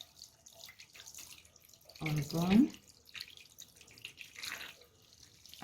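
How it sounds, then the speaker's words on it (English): Running tap water splashes over soapy hands being rinsed at a wash stand, a short burst of a second or so in the middle, with a voice speaking briefly over the quiet surroundings. "Now I'm going to rinse bubble from my hands, making sure that all bubbles"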